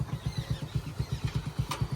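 A nearby motorcycle engine thumps in a quick, even rhythm of low pulses, running steadily at moderate volume with no speech.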